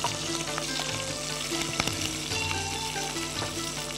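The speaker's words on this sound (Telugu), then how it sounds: "కొంచెం అవి వేగిన తర్వాత ఉల్లిపాయ ముక్కలు వేసుకోండి" Mustard seeds, cumin, green chili, curry leaves and onion pieces fry in hot oil with a loud, constant sizzle, broken by small crackles and spatters, close up and with no talking.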